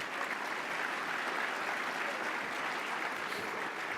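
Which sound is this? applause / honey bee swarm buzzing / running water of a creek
applause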